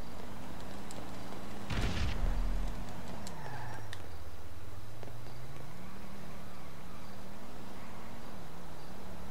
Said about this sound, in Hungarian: Valakik robbantgatnak, igen.